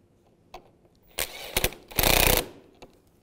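Hand ratchet snugging the front bumper bolts on a 2015-2020 Cadillac Escalade, a few short bursts of rapid metallic clicking close by, the last burst longest, with no talk.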